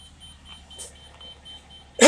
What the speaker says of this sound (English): Clearly the jacks are beeping at me, letting me know that the jacks are down.